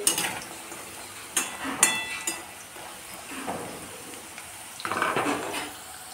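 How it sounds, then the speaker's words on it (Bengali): Green jackfruit fries in deep hot oil with a soft sizzle, broken by a few sharp clinks and scrapes of a utensil stirring in the pan, fairly quiet and close. "এইভাবে ছাকা তেলে ইঁচড় ভেজে নিলে পরে এই ভাজাতে ইঁচড় সিদ্ধ হয়ে যাবে"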